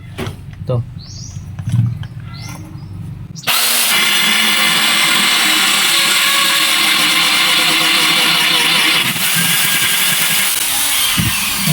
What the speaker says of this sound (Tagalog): Ating butasan ito, gamit natin ito ating uh, drill.